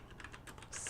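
Keys on a computer keyboard clack in a short quick burst of several soft, close taps, faint and alone.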